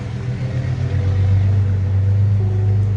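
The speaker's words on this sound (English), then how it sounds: "Loud truck, sorry about that." A loud truck passes close by outside, a heavy low engine rumble swelling and holding steady for a few seconds.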